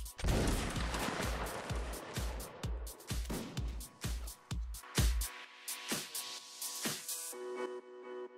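Musket volleys from lines of soldiers in a multiplayer battle game, a rapid ragged string of loud shots around the first five seconds, then a few scattered, more distant single shots.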